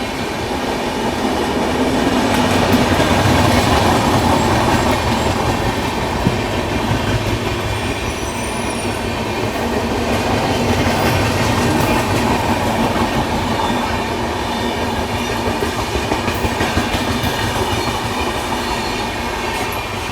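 A passenger train overtakes on the parallel track at night, heard from aboard the Kushinagar Express: a steady, loud rumble of wheels with rhythmic clickety-clack and faint squeals running throughout, without speech.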